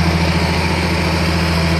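A pump engine runs steadily while pumping water out of a flooded pit on a farm, a loud, close, continuous droning hum with constant vibration and no pauses or talk.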